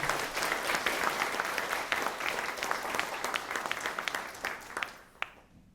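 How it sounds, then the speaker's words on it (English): Audience applause for an arts award recipient at a lunch gathering, a moderate crowd clapping steadily with distinct individual claps standing out, quieter and fairly close, then thinning and dying away with a few last claps. "Let's give Lucy a round of applause."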